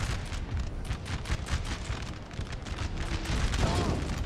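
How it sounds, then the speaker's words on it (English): Howitzer fire in a Napoleon: Total War battle, a continuous barrage of deep booms and crackling explosions mixed with musket fusillades, loud and dense throughout with a brief voice underneath. "Must have been from howitzer fire."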